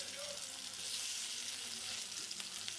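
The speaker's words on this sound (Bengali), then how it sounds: "আমি বড়াগুলোকে ভালো করে লাল করে মুচমুচে করে ভাজবো।" Lentil fritters (bora) fry crisp in hot oil, making a continuous, even sizzle and bubbling hiss that stays close and fairly quiet throughout.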